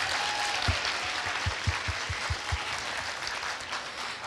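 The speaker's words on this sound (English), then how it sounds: "I would like to hear a really big round of applause for our awesome speakers this morning." An audience at a health and science symposium applauds in a soft, distant, diffuse wash, with a few louder nearby claps standing out briefly early on.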